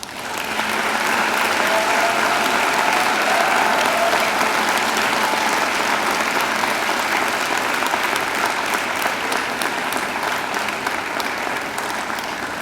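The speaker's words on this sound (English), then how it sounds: "And now I invite you to give them a mighty round of applause." Graduates at a university graduation ceremony give a mighty round of applause to their families and friends. The clapping is loud and sustained, spreading wide across the hall and holding steady for over twelve seconds before easing slightly.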